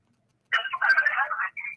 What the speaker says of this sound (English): I think my phone is ringing from UB caller